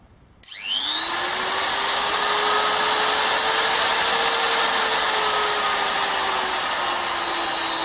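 A HILDA rotary tool fitted with a Banggood cutting disc on a modified arbor starts abruptly, then holds a loud, steady, high-pitched whine close by with no talking.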